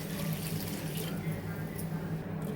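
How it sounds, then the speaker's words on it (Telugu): Water poured into a pan of gongura prawn curry, a soft continuous splashing pour heard close and fairly quiet, no speech over it. "ఇప్పుడు వాటర్ వేసుకోవాలి."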